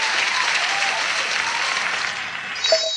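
Dense applause from a podcast's small group fills the stretch steadily, a broad continuous patter of many hands that fades near the end, where a short bright tone cuts in.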